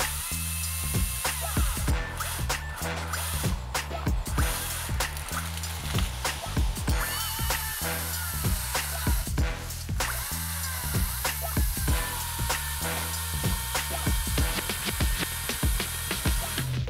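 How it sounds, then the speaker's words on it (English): A Makita XCU04 36V (18V X2) LXT brushless cordless 16-inch chainsaw runs with a steady electric whine, close and loud, with repeated bursts as it cuts or revs. Nobody speaks. "I just got done running the Makita battery operated saw."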